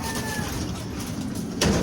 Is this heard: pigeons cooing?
yes